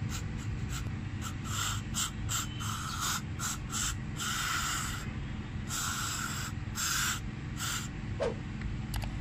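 Carburetor cleaner is sprayed onto a Toyota electronic throttle body in a run of short aerosol bursts. A close, hissing blast pulses over a steady low rumble.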